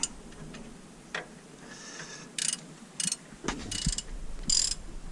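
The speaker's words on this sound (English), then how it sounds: "we're going to use a 13/16 socket to tighten these up" A ratchet with a 13/16 socket tightening brake bolts on a Ram pickup, a few short bursts of clicking with gaps between, close by and fairly quiet, no talking.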